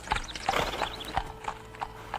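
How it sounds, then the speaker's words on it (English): Horse-drawn carriage clip-clop for a radio drama: a steady run of hoof beats clopping at an even trot, moderately loud and alone, with no talk over it. "Can't you see that horse and carriage coming?"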